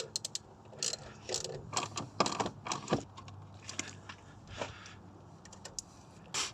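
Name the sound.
socket wrench undoing screws on a Mazda MX5 Miata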